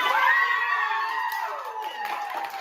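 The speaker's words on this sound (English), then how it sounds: "Let's give them one more round of applause." Audience cheering and crowd noise at a youth short film and photography awards ceremony, a lively wash of voices and whoops with little distinct clapping, fairly even in level and fading slightly toward the end.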